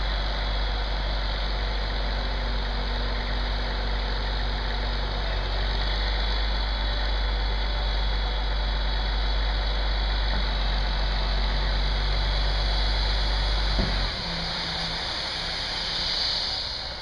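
A truck engine idling at a demolition and excavation site, a steady loud low rumble that holds throughout before the low end drops away near the end.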